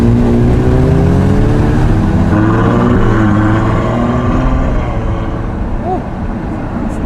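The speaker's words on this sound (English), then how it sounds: "Once that exhaust opens, very nice." A Ferrari 812 with its exhaust valves open revs hard and loud, a deep, strong engine roar with shifting harmonics that eases slightly toward the end, sounding near and dominating the scene.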